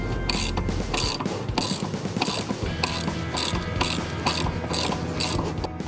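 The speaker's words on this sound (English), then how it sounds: "we're going to use a strap wrench to hold the pulley in place while we remove the pulley." A ratchet clicks in quick repeated bursts while a strap wrench holds a timing belt pulley on a car engine, the metallic ratcheting loud and close with no talk.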